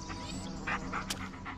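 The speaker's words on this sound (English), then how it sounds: "Yeah, good dog." A dog whimpers softly in the Blair Witch video game, with a few faint, short whines and yips over a quiet background.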